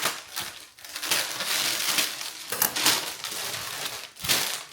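Scissors cut through the plastic and paper packaging on new BEIS luggage, producing loud, close crinkling, rustling and crunching in uneven bursts, with no speech.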